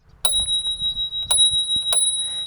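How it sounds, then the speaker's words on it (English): A small Spur Cycle bell made in the USA, with faded pink or purple anodizing, rings three times on a steel fixed-gear bike. Each ring is loud and pure and rings on, with no talking. "I have a spur cycle made in the USA bell."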